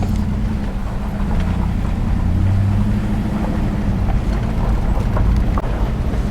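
A car drives along a road past houses in Spanish Fort, Alabama, with a steady low engine and tire rumble and wind buffeting the microphone, loud and continuous.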